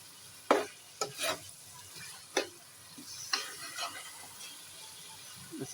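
A spoon scraping and stirring through beef biryani with plums and potatoes in a pot, giving several quiet, irregular clinks and scrapes over a soft sizzle, with no voices.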